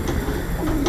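Pigeons coo softly in a pigeon loft, one brief low warbling call close by against a dense background hum, with no talk.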